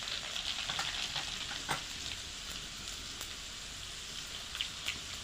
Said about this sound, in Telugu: ఒక చెంచా జీలకర్ర వేసుకోవాలి ఒక చెంచా ఆవాలు వేసుకోవాలి